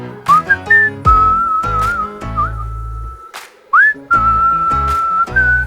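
A person whistles a melody with pursed lips, clear and close, with bright sustained notes broken by short pauses and little pitch slides, alone without talk.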